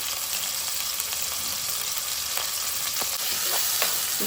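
Chopped onion pieces sizzle steadily in a pan for a Chikkudikai masala curry, with a constant hiss and a few light stirring clicks near the end. No one speaks.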